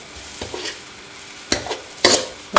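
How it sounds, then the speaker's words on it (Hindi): Semolina roasts slowly in desi ghee over a medium flame, with a spoon scraping and stirring the pan in several sharp, close strokes over a faint sizzle. "बहुत आहिस्ता आहिस्ता और आराम से इसको हम ब्राउन करेंगे और सलसल ऐसे चमचा चलाते रहना है"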